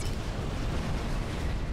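Artillery shots fire in Supreme Commander, a dense, continuous roar of overlapping booms and rumbling blasts at steady high loudness.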